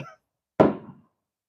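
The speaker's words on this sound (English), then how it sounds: "People are already popping off fireworks in my area." A single firework pops in the distance as a dull, muffled thump that fades quickly, heard alone after a brief trailing voice.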